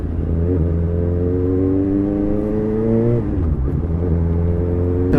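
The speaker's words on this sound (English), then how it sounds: "One thing I do like about this bike, because it's not a liter bike, you know, you're dancing through the gearbox" A Suzuki GSR750 motorcycle with a Yoshimura R11 exhaust riding at night, its engine note climbing through revs in rising sweeps, dropping at a gear change, then pulling up again, loud and steady.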